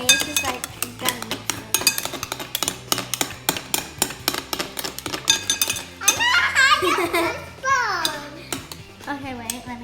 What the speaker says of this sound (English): We gotta keep mixing it.